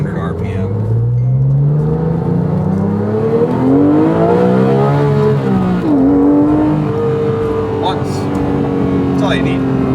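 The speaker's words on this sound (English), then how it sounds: "hitting the rev limiter on a 997 GT3" A Porsche 997 GT3 engine revving up toward its 8,400 RPM redline, rising in pitch in a long sweep before dropping and climbing again, loud and close, with a voice speaking over it.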